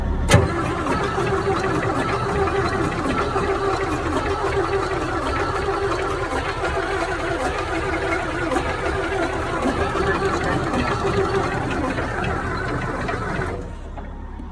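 A pump in a pit with its covers removed starts up by remote switch, then runs as a loud, steady mechanical hum with a strong tonal drone before cutting off abruptly near the end.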